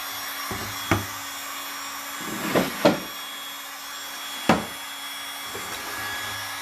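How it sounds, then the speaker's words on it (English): Heat gun drying fresh paint on furniture: a steady airy blowing hum runs throughout, broken by a few sharp knocks and clatters nearby. "I'm going to dry this really quick with my heat gun"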